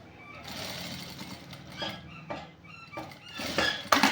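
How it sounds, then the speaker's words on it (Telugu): A sewing machine runs a double line of stitching over an existing seam on a shirt side pocket, giving rapid mechanical chattering in uneven bursts that grow louder toward the end, with no talking. "ఈ కుట్టు మీద ఇంకో కుట్టు వేసుకుంటున్నా"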